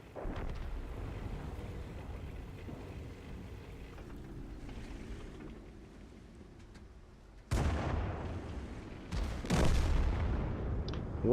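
In World of Tanks, a low rumbling drone runs for several seconds, then a tank cannon shot lands as a sudden heavy boom, followed by another loud blast near the end. No one speaks.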